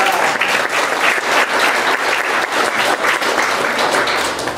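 An audience at a California Assembly candidate event for the 42nd District claps loudly and steadily for several seconds, dense applause from a sizable crowd.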